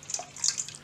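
Melted butter is poured into a bowl of crepe batter made with eggs, milk, salt and sugar, giving a brief, close, soft liquid splash and trickle.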